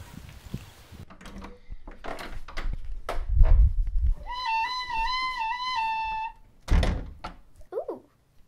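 A heavy door thunks open inside the sun in a video game, followed by a sustained, wavering tonal sound. A voice talks over parts of it.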